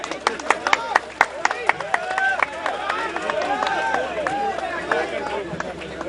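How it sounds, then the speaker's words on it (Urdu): Crowd clapping at a political rally, a burst of sharp, dense handclaps from many people, close and loud, mixed with shouting and cheering voices throughout. "یہ تالیاں لگائیں نا ذرا زور سے۔"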